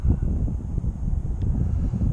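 Wind buffeting a drone's microphone outdoors, a steady loud low rumble with gusty swells throughout and no voices.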